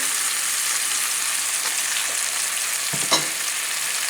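Chicken thighs fry skin side down in a pan with garlic, making a dense, even sizzle up close that holds steady throughout, with one brief clink near the end.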